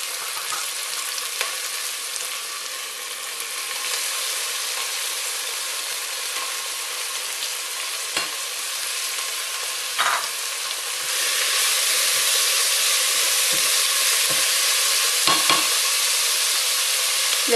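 Leek and onion sauté in a pan for pumpkin cream, giving a steady, close, crackling sizzle that grows a little louder partway through, with a few soft stirring knocks and no voices.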